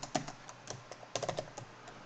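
Keystrokes on a computer keyboard while editing in a mainframe text editor, two short bursts of quick clicking taps, fairly close and clear, with no talk.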